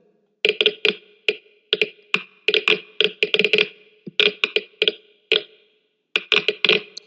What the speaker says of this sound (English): What's that clicking noise? I must have left my Geiger counter on.